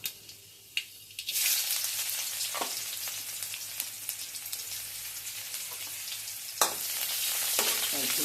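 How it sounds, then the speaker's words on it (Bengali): Onion and panch phoron spices sizzle and crackle in hot oil, a loud, steady frying hiss that starts after a brief quieter moment, with occasional sharper pops and stirring scrapes. "এগুলো আর ফোড়নগুলো তেলে ভেজে নিব। লাল করে ভাজতে হবে"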